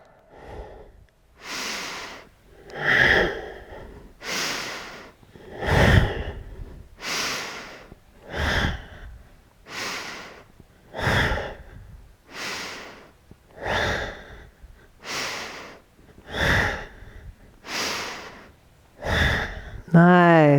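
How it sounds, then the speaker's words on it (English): Rhythmic deep yoga breathing, a long slow exhale and inhale roughly every one to two seconds, steady and close throughout, with an instructor's voice running alongside. "Exhale down, inhale up."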